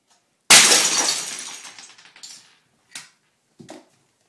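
A LEGO pirate ship is smashed apart with one loud crashing impact, followed by a scattering clatter of plastic bricks that fades out, then two brief smaller clacks of pieces settling.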